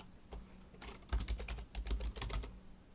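Card details being typed on a computer keyboard, a close, quiet burst of rapid key clicks in uneven clusters over a faint background hum.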